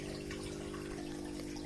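An ordinary bubble air pump motor runs in a koi fish tank, giving a steady, even mechanical hum with a faint watery wash over it, continuous and unchanging throughout.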